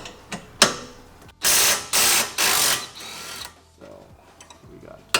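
Ratchet loosening a 16mm bolt and nut on a BMW E9X M3 front wheel hub, a few clicks followed by three loud, sustained bursts of ratcheting about a second long each, then quieter tool handling.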